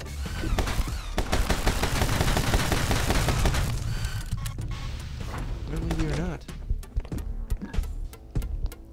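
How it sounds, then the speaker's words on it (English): Rapid gunfire in a video game aimed at the player, dense bursts of shots for several seconds followed by scattered single cracks, with a voice talking over part of it. "Stop shooting me, dude!"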